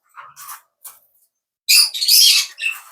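A pair of green-cheeked conures at the Tongi bird market give a few short, thin chirps, then a louder, harsh burst of close squawking.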